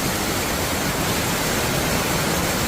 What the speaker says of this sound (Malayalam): ഇതാണ് ഉരക്കുഴി വാട്ടർഫാൾസ് കേട്ടോ കക്കയത്തുള്ള ഉരക്കുഴി വാട്ടർഫാൾസാണ്